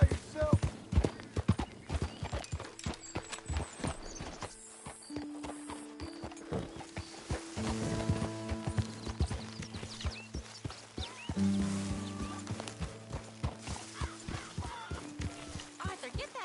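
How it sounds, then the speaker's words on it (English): Rhythmic horse hooves clip-clop at a walk with a whinny from a horse in the video game Red Dead Redemption 2, under intermittent character dialogue and game music. "get that horse out of here"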